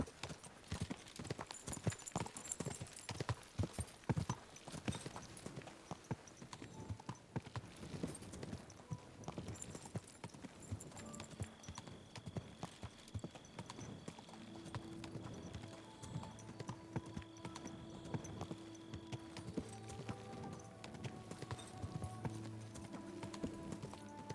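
The horse Pebbles gallops through a night ride in the video game Kingdom Come Deliverance 2, fast steady hoofbeats that later thin out as a soft, sustained game score rises beneath them.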